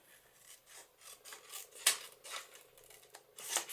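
Scissors cutting the edges of vellum paper, a series of soft rasping snips in an uneven rhythm, close and quiet with no talking.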